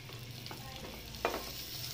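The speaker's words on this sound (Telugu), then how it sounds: "ఈ ముక్కలన్నింటినీ బాగా కలుపుకోవాలి." Mixed vegetables including radish, carrot, drumsticks and bottle gourd being stirred in a frying pan for sambar, a steady soft sizzle with one brief louder scrape of the spoon near the end.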